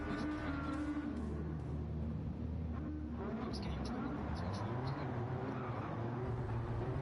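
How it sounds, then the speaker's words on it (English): Audi RS5 DTM race car in Gran Turismo 7 at the Red Bull Ring during a rolling start, with several engines droning and rising in pitch under continuous commentary. "Engine notes rise."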